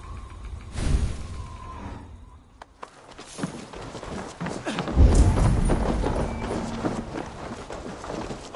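Horses' hooves in the Assassin's Creed Valhalla video game, a clip-clop of footfalls that picks up into a steady, moderately loud gallop with thuds and whooshing movement, with no talk over it.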